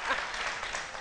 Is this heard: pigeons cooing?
no